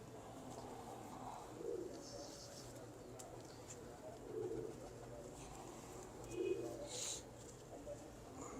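Pigeons coo in soft, low murmuring bursts in a loft or rooftop coop kept by a pigeon fancier. Three or four faint cooing phrases recur against steady background hum, with some muffled talk nearby.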